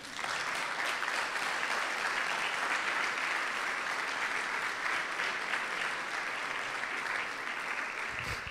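A congregation applauds during a church sermon, a dense and sustained roar of many clapping hands that holds at an even, loud level throughout.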